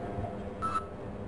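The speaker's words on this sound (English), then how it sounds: "You can just hear the beeping for the rest of the level." A single short electronic beep in the video game Half-Life rings out over a steady low hum, clear but not loud, lasting a fraction of a second.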